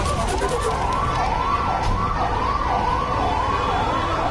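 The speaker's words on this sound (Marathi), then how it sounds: "सध्या अग्निशमन दलाच्या गाड्या घटनास्थळी पोहोचल्यात आणि आग विझवण्याचे प्रयत्न सुरू आहेत" Fire engine sirens at a residential building fire in Hyderabad, a loud continuous wailing siren rising and falling steadily over traffic and street noise.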